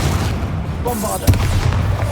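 Bombarda blasting spell explosions in the video game Hogwarts Legacy, a sudden heavy boom near the middle over a dense, continuous rumbling backdrop of game noise.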